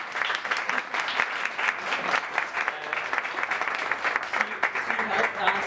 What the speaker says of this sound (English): I would like you to give a big applause to Gundula